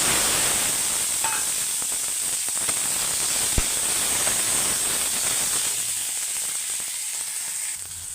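Chopped tomatoes go into hot oil in a pan and sizzle steadily with a bright, hissing fry that stays fairly loud, then thins slightly toward the end, with a single faint knock partway through.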